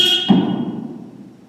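A short, bright horn blast cuts off abruptly, followed by a dull thump that fades into a low rumble.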